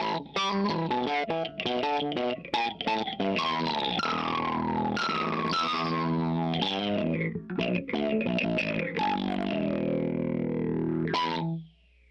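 Electro-Harmonix Bassballs twin dynamic envelope filter pedal with distortion added on bass guitar, giving dense, fuzzy notes with swooping, wah-like filter sweeps that rise and fall, loud and continuous before cutting off at the end.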